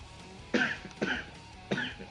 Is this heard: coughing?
yes